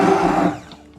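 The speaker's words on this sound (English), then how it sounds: "But the blender blade is pretty small" Blender with a small blade mixing a pumpkin beer foaming sugar scrub: a loud, close, steady whirring for about half a second, then it winds down to quiet, with a brief knock at the end.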